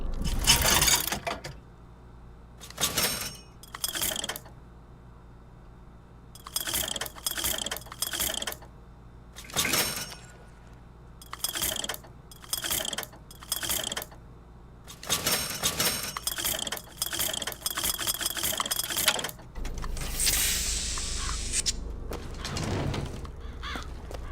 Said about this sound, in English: It's a vending machine.